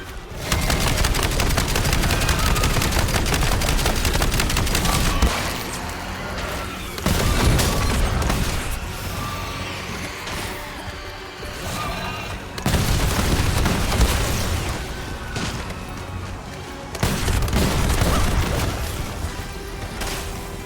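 Grenade blasts and rapid gunfire in a zombies video game, dense bursts of shooting and booming explosions in several loud clusters separated by brief quieter gaps.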